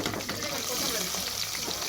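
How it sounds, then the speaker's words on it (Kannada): Onions fry in oil in a pressure cooker, browning for veg biryani, giving a steady, close crackling sizzle with light stirring scrapes throughout. "ಇದು ಉಳ್ಳಾಗಡ್ಡಿ ಸ್ವಲ್ಪ ಬ್ರೌನ್ ಕಲರಿಗೆ ಬರ್ಬೇಕು ರೀ ಅಲ್ಲಿವರೆಗೂ ಫ್ರೈ ಮಾಡ್ಕೋಬೇಕು"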